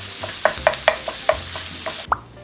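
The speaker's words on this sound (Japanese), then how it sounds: "ここに豚ひき肉を加えてさらに炒めていきましょう。" Ground pork goes into a pan of carrots and leeks already stir-fried for a preschool mapo rice bowl, giving a steady soft sizzle with several sharp clicks and scrapes of a utensil stirring close by.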